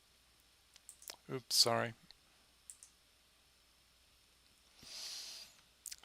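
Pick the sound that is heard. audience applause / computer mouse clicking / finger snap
computer mouse clicking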